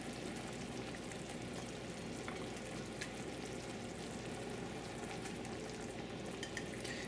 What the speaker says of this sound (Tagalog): unahin natin yung sili at isasabay natin kaagad dito yung isda